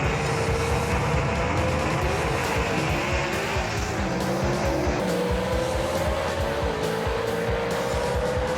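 Drag race cars, a Mustang against a Renegade, run at Knoxville Dragway in a Southeast Gassers Association event: a loud, continuous engine roar with rising and falling tones, heard from nearby with no talking.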